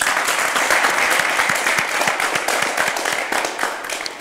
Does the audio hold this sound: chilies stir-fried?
no